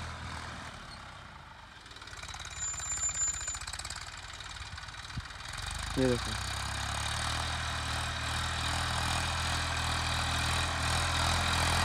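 A small, low-height tractor ploughs a field, its diesel engine giving a steady, loud, knocking rumble that runs the whole time. Someone speaks briefly near the start.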